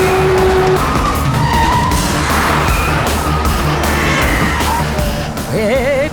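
A car speeds through traffic in an action film scene, its tires screeching and skidding loudly throughout with roaring engine noise, plus a wavering tone near the end.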